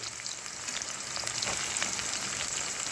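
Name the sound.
chopped onion frying in a pan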